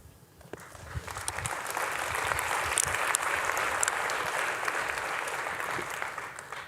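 A conference audience breaks into applause, the clapping building quickly to a dense, sustained roar from a large crowd in a hall and holding steady throughout.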